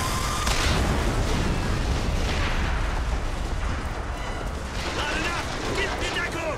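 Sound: gunfire in the video game Bioshock Infinite

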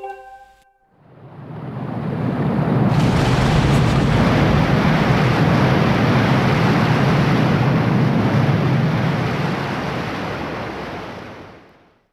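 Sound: water level sinking in Faron Woods, Zelda Skyward Sword video game

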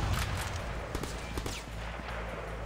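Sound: grenade launcher firing in Sleeping Dogs video game

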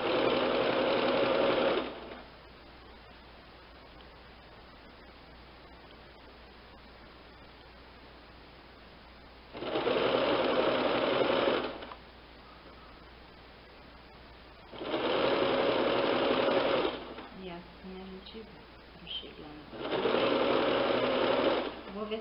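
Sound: sewing machine stitching a cushion cover

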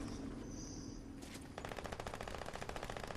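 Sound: gunfire from players shooting in the video game Fortnite

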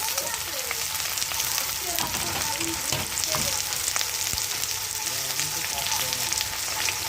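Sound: carrot, tomato, potato and beans frying in a pan

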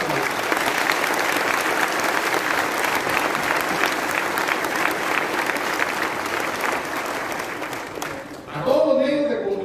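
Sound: audience applause at a swearing-in ceremony

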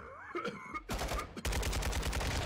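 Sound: gunfire from a video game

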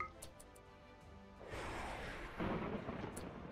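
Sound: thunder strike in the video game RimWorld

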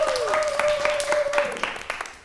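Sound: class applause

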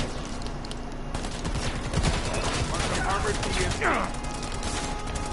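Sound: gunfire shooting a sniper in a video game

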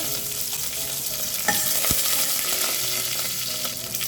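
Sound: mustard seeds, asafoetida and curry leaves frying in oil

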